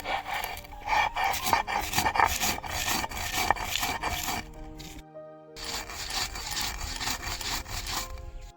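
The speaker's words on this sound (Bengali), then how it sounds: "মশলাগুলো বেটে নেব, একটু গোটা গোটা থাকবে।" Whole spices ground by hand on a grinding stone for tamarind pickle, heard as repeated rough scraping strokes in a steady back-and-forth rhythm, close by, with a brief pause midway.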